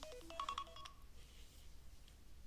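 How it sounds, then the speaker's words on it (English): A phone goes off nearby with a quick run of bright electronic tones lasting under a second, then fades into a low steady room hum. "as my phone goes off"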